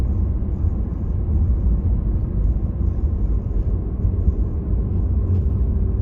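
Steady low engine rumble of a car driving along a 30 mph road toward a roundabout on a Chadderton driving test route, continuous and close, with no speech.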